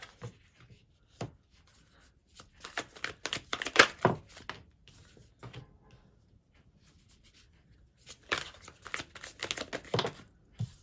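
Tarot cards shuffled and drawn by hand, crisp papery riffles and flicks in irregular bursts with quiet gaps between, close and fairly soft.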